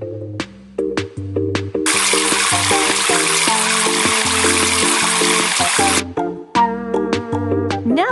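A shower runs in the Lingokids kids' game as steady bright water spray for about four seconds. Short playful tonal game jingles come before and after it.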